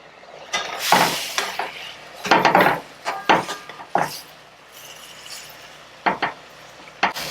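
Zucchini and Cheongyang chili stir-fried gently in a pan: sporadic close scrapes and light clacks of a utensil against the pan, in short irregular clusters separated by quiet gaps, with no talking.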